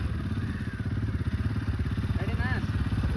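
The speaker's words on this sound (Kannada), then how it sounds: "ಗಾಡಿ ಸ್ಟಾರ್ಟ್ ಮಾಡ್ಕೊ ಒಮ್ಮೆ" A Bajaj motorcycle, either a Pulsar 150 or an NS 200, starts and idles with a steady close rumbling chug and light clattering, while voices talk over the engine.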